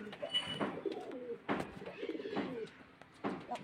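Racing pigeons at a loft in Beldanga, Murshidabad give soft, close, repeated cooing calls in irregular bursts over a quiet background.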